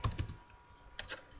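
Quiet clicks from a computer keyboard as someone types code, coming in two short bursts of several keystrokes separated by a brief pause, close up and faint, with no talk.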